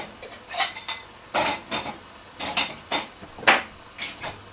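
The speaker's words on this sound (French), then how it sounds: "Je vais mettre la vaisselle" Dishes and cutlery are put away in a home kitchen while a crumble is baked, with repeated clinks and clatters of plates and silverware in an irregular rhythm, close and moderately loud, with no voices.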